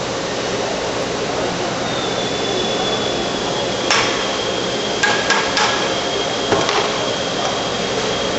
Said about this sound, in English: Using a soft rubber mallet, tap on the heads of the hex head bolts to loosen the bottom half of the clamp